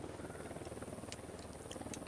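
A helicopter in Ghost Recon Wildlands heard as a faint, steady rotor thrum with an even pulsing chop throughout, somewhat distant, with small clicks over it and no talk.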